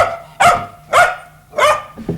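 A dog gives three sharp, evenly spaced barks close by, then a softer short yip at the end, indoors in a care home for the end of life in 1980.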